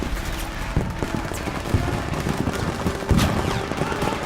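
Dense battlefield gunfire from the World War II shooter Call of Duty WWII, with continuous rattling shots and scattered bursts layered over a loud, busy din of combat without a break.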